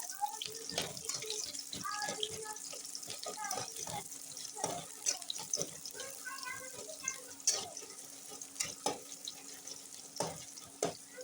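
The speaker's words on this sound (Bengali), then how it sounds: "এখানে পেঁয়াজ আর লঙ্কাটি দিয়ে দিব। একটু একটু করে ভাজবো।" Onion and chili crackle and sizzle in a hot pan, with scraping stirring sounds and occasional clinks, while a person talks intermittently.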